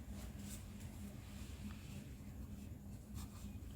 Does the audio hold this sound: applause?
no